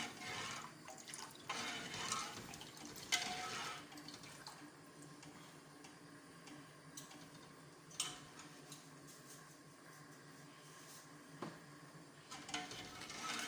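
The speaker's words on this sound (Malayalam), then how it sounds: "വെള്ളം ഒഴിക്കുക" Water goes into a cooking pot while rasam is prepared in a home kitchen: a faint, quiet trickle with scattered drips and small clinks of the pot, with no voices.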